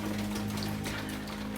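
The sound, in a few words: rain falling in a garden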